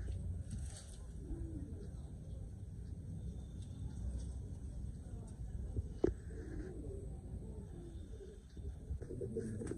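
Pigeons in a loft in Howrah, Kolkata, giving low soft cooing calls, quiet and somewhat distant, with a faint background hum and one sharp knock partway through.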